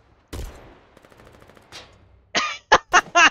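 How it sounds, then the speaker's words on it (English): A Bane rocket launcher fires in the war game Foxhole, one heavy boom followed by a fading rumble, then a cluster of sharp nearby bursts of gunfire close together at the end. "I used your head as a stand for my fucking Bane rocket launcher"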